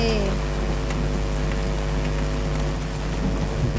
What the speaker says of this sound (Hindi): एक दिन बहुत तेज आंधी तूफान आया